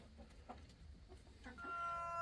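Chicken clucking on a small farm in the Pacific Northwest, soft and somewhat distant over outdoor background noise, with a few scattered calls and a brighter, more sustained call rising near the end.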